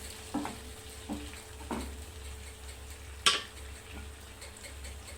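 Tomatoes for ridge gourd bhaji sautéing in a pan: a soft, steady sizzle with a handful of distinct spatula taps and scrapes at intervals, quiet and close, with no talking.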